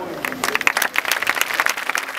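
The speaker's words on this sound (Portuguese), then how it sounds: "este aplauso foi um aplauso até pequenino para aquilo que elas fizeram" A short burst of audience applause at an eco fashion show, dense overlapping claps at close range, steady in intensity for a couple of seconds.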